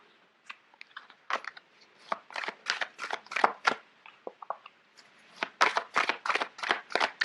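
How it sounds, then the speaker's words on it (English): Large tarot cards being shuffled up close, a run of crisp, papery riffling and slapping bursts in an uneven rhythm with a short pause midway and no talking. "Sorry, these cards are quite big. It's hard to shuffle."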